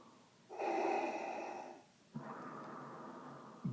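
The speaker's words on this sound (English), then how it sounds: "while outside the banthas contentedly snore" Snoring banthas as a read-aloud sound effect: two long, breathy snorts in a slow in-and-out rhythm, the first rougher and louder, the second softer, close and alone.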